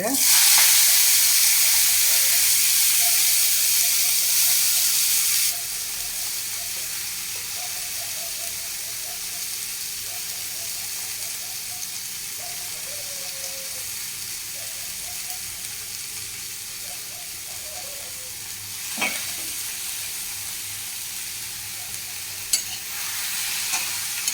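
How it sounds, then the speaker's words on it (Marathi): Cumin seeds and fresh fenugreek leaves fry in hot oil in a pan. A loud hiss fades to a softer, steady sizzle, with a few faint clicks and taps of stirring near the end. "जिरी घाले जिरी समा पटपटायले आता धुवन दवरलेले मेथी पालो घालतास"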